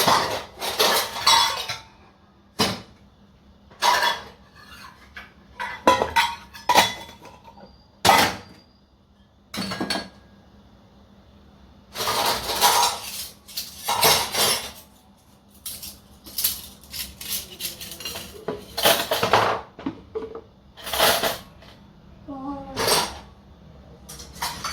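Dishes and pots are being washed and handled in a home kitchen. Scattered clinks and clatters of cutlery and metal utensils come in irregular bursts, some close and sharp and others softer, over a faint background.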